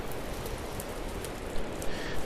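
Rain in the Minecraft TerraFirmaCraft modpack, a dense, steady hiss of falling rain with scattered droplet patter, heard alone and continuous.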